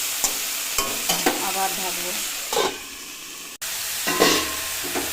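Fish frying in a covered pan sizzles and hisses in a steady background while a spatula stirs and scrapes and the lid clatters with several sharp knocks. Someone speaks briefly over the cooking.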